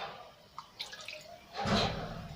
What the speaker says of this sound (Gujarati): 1 વાટકી પાણી એડ કરું છું।